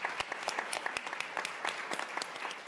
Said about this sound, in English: Maybe we give him a hand of applause